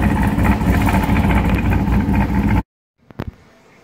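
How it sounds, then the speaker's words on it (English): Steady, loud idle of a C5 Corvette V8 with an H-pipe exhaust, a continuous close low rumble that cuts off abruptly, followed by a few brief faint knocks. "We're hoping to try and get rid of that kind of fluttery noise that it makes in this particular exhaust."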